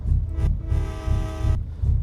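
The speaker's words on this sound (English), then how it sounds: "That's the air horn." A Peterbilt 359 mod truck's air horn in American Truck Simulator sounds once in a sustained, loud, brassy blast lasting under a second, over a deep rhythmic diesel engine rumble that pulses steadily underneath.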